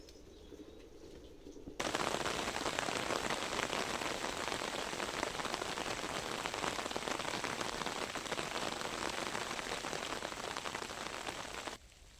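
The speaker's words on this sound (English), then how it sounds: "It was raining when visiting" Rain falls steadily in woodland at a nature reserve, a dense pattering hiss that starts abruptly, keeps an even moderate level, then drops away near the end.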